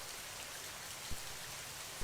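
Steady rain falls on a leaky roof in a poor family's home, a continuous faint hiss of drops with one soft thud partway through, heard alone with no voices.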